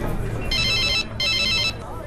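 A telephone rings twice in a film scene, two steady bursts of bright electronic ringing with a short gap between them, over a low background hum.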